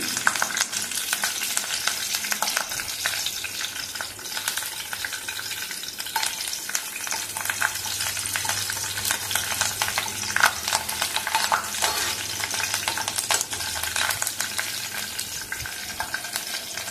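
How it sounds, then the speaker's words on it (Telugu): Curry leaves sizzle and crackle in hot oil with green chillies, a loud, constant close-up frying hiss with occasional scraping as the pan is stirred. "పచ్చిమిర్చి వేగాక ఇప్పుడు 3 రుబ్బల కరివేపాకు వేస్తున్నాను."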